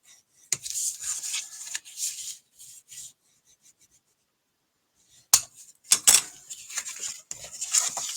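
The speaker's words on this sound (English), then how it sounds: "I'm also going to burnish this again, just so it's got a good fold on it." Scratchy rubbing strokes as a folded card stock Christmas card is burnished along its crease, a burst of close swipes, a pause of near silence, then a second cluster of firmer rubs.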